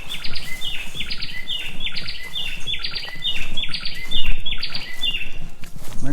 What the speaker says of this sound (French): un beau chant d'oiseaux.